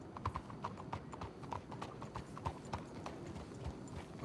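Horse hooves clip-clop steadily in a video game, a regular rhythm of moderate hoofbeats with an occasional faint snort, no speech.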